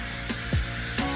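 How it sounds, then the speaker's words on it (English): A rotary polisher buffs the paintwork on the bonnet of a classic Mk5 Ford Escort with a steady whirring drone and brief pitch dips as the pad shifts on the panel. "rotary polisher, and that should just bring that paintwork up nicely"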